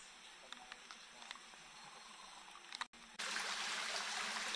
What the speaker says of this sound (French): Nous retrouvons le petit ruisseau dont le murmure nous accompagne.